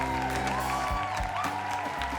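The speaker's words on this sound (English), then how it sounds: "the cheer for Briar Bennett-Grant" A crowd at a young riders' equestrian show cheers and applauds for the 2020 Young Rider of the Year, steady dense clapping and hubbub across the whole stretch, with no clear voice on top.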